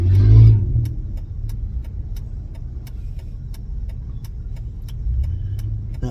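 A small car drives past outdoors, a steady low engine rumble rising at the start, holding under the scene and swelling again near the end.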